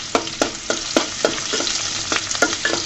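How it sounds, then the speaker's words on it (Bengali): Onions fry lightly with garlic in a pan for a bottle gourd and shrimp curry, a steady sizzle marked by a rhythmic series of about ten close spatula scrapes and taps. "পেঁয়াজগুলোকে আমি হালকা ভেজে নিব, বেশি ভাজাভুজি করব না।"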